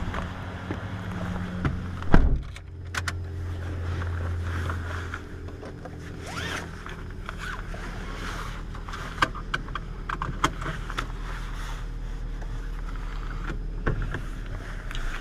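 A 2008 Toyota Yaris with a 4-speed automatic driving on the road, heard from inside the cabin as a steady low engine and road rumble with a few bumps and clicks, no talking.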